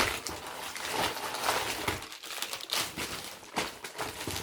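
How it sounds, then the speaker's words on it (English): Crinkly cellophane wrapping being pulled off and crumpled while a box is unpacked, a continuous close, busy rustle with sharper crackles throughout. "Got lots of cellophane stuff"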